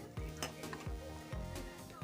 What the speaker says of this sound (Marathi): कुरकुरीत आणि क्रिस्पी सोनेरी रंग येईपर्यंत तुम्ही फ्राय करून घ्या